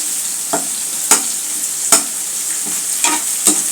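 Three garlic cloves fry in hot oil with a steady, bright sizzle. Several light scrapes and taps of stirring come through at an uneven rhythm, up close.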